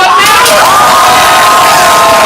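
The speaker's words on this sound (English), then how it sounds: "Blue team, applaud" A loud, continuous roar of cheering and applause from an improv comedy show audience for the blue team, with high-pitched shouts and whoops over dense clapping.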